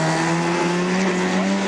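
A Mazda RX2 drag racing car at the strip gives off a loud, steady engine drone with sustained tonal whine, brief and continuous with no voices.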